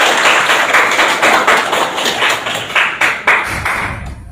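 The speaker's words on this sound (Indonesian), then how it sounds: "Tepuk tangannya dong." Students in a classroom give a quick burst of clapping, a rapid patter of many hands that tapers off after a few seconds, with faint voices.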